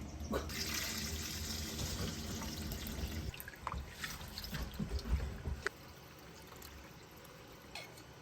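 Rice is scrubbed by hand under a low-running kitchen tap. Close, continuous splashing and trickling water with rubbing and swishing bursts, quieter toward the end.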